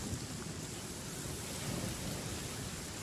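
A heavy downpour in a video game, with dense steady rain hiss and low rumbling thunder throughout, fairly loud and with no talking.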